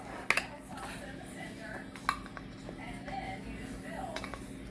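Teaspoons of baking powder measured into keto banana bread batter: a few sharp metal spoon clinks against a bowl, spaced apart, over a low kitchen hum with a voice talking.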